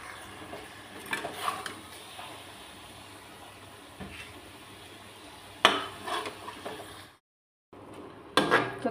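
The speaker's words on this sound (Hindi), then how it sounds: "अब इसे हम एक दूसरे बर्तन में निकालेंगे, इसे दूसरे बर्तन में निकाल लेते हैं अब।" Cooked potatoes being moved from one cooking pot into another in a home kitchen, with scattered metallic clinks and scrapes of utensils against the pots, a sharper clatter near the end after a brief pause.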